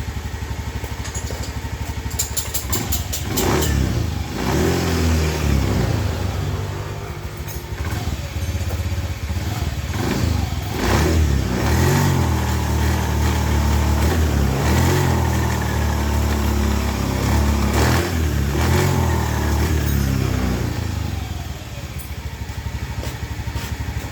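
A Honda motorcycle engine with a faulty TPS sensor roars close by, revved hard at full throttle in repeated surges that rise and fall over a rough, sputtering idle, loud throughout.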